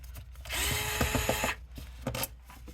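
An electric screwdriver whirs in a couple of short bursts while backing out the screws that hold a fuel pump on an Acura RSX, working close up with brief clicks between runs.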